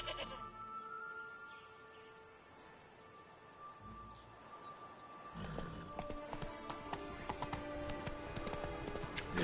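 Roach, Geralt's horse in the video game The Witcher 3, breaks into a gallop with rapid, rhythmic hoofbeats that start midway and grow louder and busier, following a quieter stretch of ambient game sound and faint footsteps.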